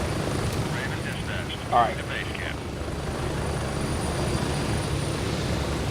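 Aircraft engine in the Gray Zone Warfare video game, a constant heavy rotor-like drone running throughout, with players talking briefly over it.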